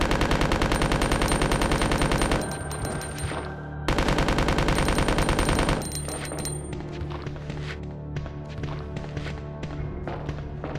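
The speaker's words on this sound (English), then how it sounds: "we'll use our shotgun" Rapid, loud shotgun blasts in the original Resident Evil 2 hammer out in dense, continuous bursts that pause briefly and then resume, with the rhythm loosening toward the end.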